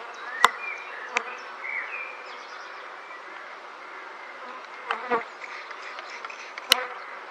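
Steady buzzing of many honey bees swarming close by at a top bar hive, a continuous droning hum with occasional louder passes and a few sharp clicks.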